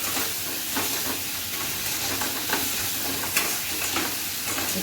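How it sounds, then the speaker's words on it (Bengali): Potatoes fry with spices and salt in a pan, producing a continuous close sizzle with scattered crackles and occasional stirring scrapes, steady and fairly loud throughout, with no voices. "একটু ভেজে নিই ভালো করে, তারপরে এই ডিমটা দিয়ে দেবো"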